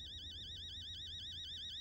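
An electronic alarm in the horror game Fears to Fathom: Home Alone warbles with a fast, steady up-and-down pitch, faint and continuous with a low hum beneath.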